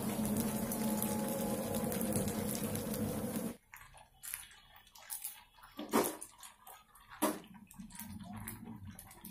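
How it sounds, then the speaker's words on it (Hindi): Malpua batter fries in ghee in a pan with a dense, steady sizzle for a few seconds, then the hiss cuts out, leaving quieter scattered clinks and scraping taps. "और हम मालपुए अच्छे गोल्डन ब्राउन होने तक फ्राई करेंगे।"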